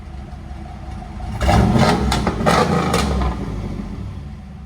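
Throaty idle from a 1995 Chevy Camaro Z/28 388 stroker V8 fitted with headers and a Gibson cat-back exhaust, broken by a few quick, loud revs up close before easing back to a steady burble.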